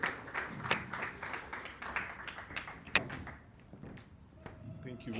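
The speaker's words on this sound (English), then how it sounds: "Round of applause for him" Scattered clapping from a seated audience welcoming a speaker at an anniversary celebration in Qatar, a thin uneven patter of hands mixed with a few louder claps under room noise.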